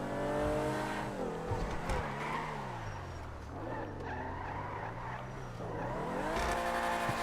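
A car in GTA Online with lowered suspension spins through a full 360-degree turn, engine pitch dipping and rising in harmonic sweeps as it decelerates and accelerates again, steady and close without talk.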